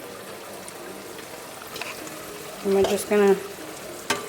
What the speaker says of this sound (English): stir it in before we dump the meat in so that the meat can melt it